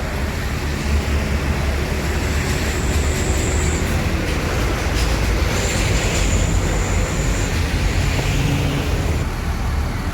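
Bus engine running smoothly, heard from inside a moving bus in Palembang, a steady broadband rumble and road noise with faint high whines, even and continuous throughout.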